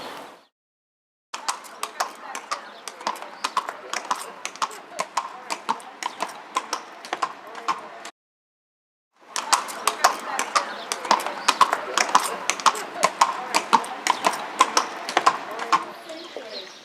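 Steady rhythmic clip-clop of horse hooves on hard ground at a riding training area in Jerez, Spain, fairly close, with a brief silent gap midway and faint bird sounds in the background.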